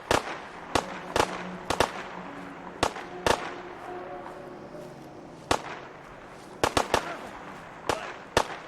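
Gunfire in a video game shootout: loud, sharp shots cracking out irregularly, some singly and some in quick doubles and triples, across a low background murmur.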